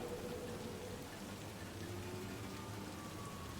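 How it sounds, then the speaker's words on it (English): Soft, steady rain patters on a metal roof in a video game, faint and continuous, with no talking. "How real this rain looks."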